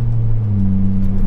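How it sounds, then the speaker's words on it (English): The exhaust of an older daily-driver car rumbles as a low, steady drone during a short stretch of driving, close and continuous with no talk. "I just like listening to the sound of that exhaust in the back, so I think it sounds phenomenal"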